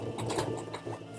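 A sewing machine runs briefly at close range, stitching gathers along a gathering thread in fabric, with a quick rhythmic mechanical whir and clatter.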